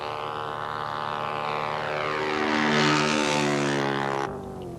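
A propeller airplane engine drones loud and close through an aerobatic spin, its pitch sweeping up and down with a swelling roar before cutting to a quieter hum near the end.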